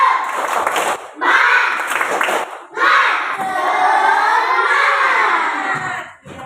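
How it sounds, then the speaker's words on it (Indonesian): A classroom of children performs a rhythmic spirit clap in bursts, voices shouting and chanting loudly along with the clapping, with short pauses between phrases. "Tepuk semangat"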